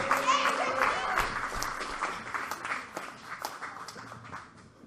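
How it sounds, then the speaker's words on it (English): An audience at a youth poetry slam in the Bronx applauds the final competitor, a full burst of clapping that thins gradually while a voice speaks over the start. "Keep clapping, keep clapping."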